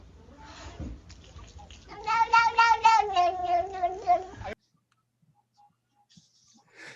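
A cat gives a drawn-out, wavering yowl, loud and close, rising then sliding down over about two seconds before cutting off into near silence.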